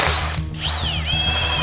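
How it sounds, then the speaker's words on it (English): Coil spring compressor ratcheting on a car's coil spring, a close, continuous run of metallic clicks and grinding with a short squeal partway through. "I'd managed to get the compressed spring stuck in the compressor"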